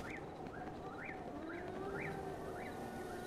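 Bird song from the video game Zelda: Breath of the Wild, a repeated rising-and-falling chirp phrase sounding about every half second, soft and steady over a constant ambient game background.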